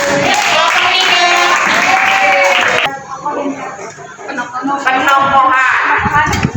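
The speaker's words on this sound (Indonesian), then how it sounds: "Tepuk tangannya dulu. Kelompok tiga." Classroom applause for a student group, with loud clapping and chatter at the start. It drops to quieter voices in the middle, then the clapping swells again near the end, mixed with talk.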